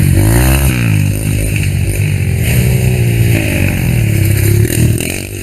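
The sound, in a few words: motorcycles roaring through a forest trail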